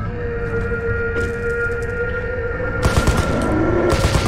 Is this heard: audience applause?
no